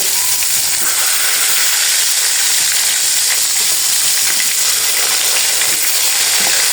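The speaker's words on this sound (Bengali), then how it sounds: "এখন আমি যে বেগুনগুলোকে ভাজা নিব" Eggplant slices frying in a pan of hot oil, a loud, dense, continuous sizzle heard up close, with occasional small pops and clicks.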